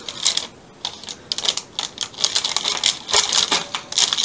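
A knife slicing through a pan of oats and honey granola bars, a run of close, crisp crunching and tapping cuts in quick irregular bursts with brief pauses, no voices.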